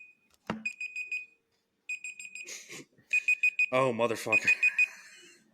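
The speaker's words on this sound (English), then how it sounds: "I accidentally hit a 5-minute timer as well." A five-minute timer alarm sounds in steady repeated electronic beeps, starting and stopping in bursts, while someone talks over it and curses at it.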